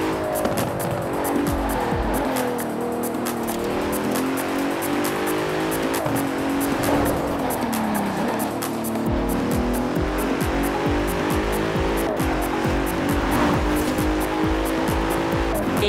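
A 2017 Bentley Continental Supersport drives hard in Forza Horizon 4, its engine note rising and falling through repeated gear shifts, with tire squeal and skidding through corners, loud and continuous with no talking.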